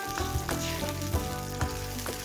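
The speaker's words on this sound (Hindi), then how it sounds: "अब इसके ऊपर डाल देंगे कॉर्नफ्लावर का घोल और इसको मिक्स करके पकाएंगे 2 और मिनट के लिए" Chilli chicken is stirred in a pan after a cornflour slurry is added, giving a loud continuous sizzle with a few soft scraping stirs.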